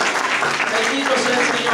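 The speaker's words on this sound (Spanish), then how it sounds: "¿Cuántos pueden dar un aplauso a Cristo Jesús en esta hora?" Congregation in a church service applauding, a dense, even burst of clapping at moderate loudness, with voices and music mixed in beneath it.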